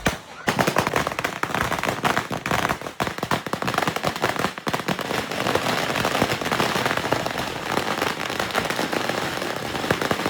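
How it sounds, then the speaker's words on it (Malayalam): Dense Vishu firecrackers burst nonstop in a loud, crackling barrage, rapid pops and bangs overlapping for the full stretch with only brief dips in intensity. "ഒരു അസല് വെടിക്കെട്ട് തന്നെ ആയിരുന്നു."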